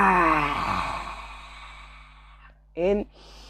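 A long, deep exhale after a deep breath, heard up close as a loud, voiced sigh that slowly fades over about two seconds, followed by a short breathy vocal sound.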